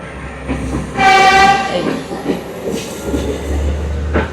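A train pulls out of Kelaniya railway station in Sri Lanka, heard from on board, with a loud horn blast over a steady rumble of the running carriages.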